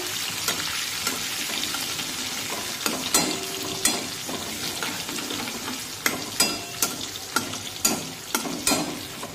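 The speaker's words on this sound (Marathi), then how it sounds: "7 ते 8 लसणाच्या पाकळ्या मी इथे बारीक कट करून घेतलेल्या आहेत, त्या सुद्धा टाकूया। परतून घेऊया।" Finely chopped garlic cloves and curry leaves sauté in hot oil in a pan. A steady close sizzle runs throughout, with a spatula clacking and scraping at a quicker pace toward the end, no speech.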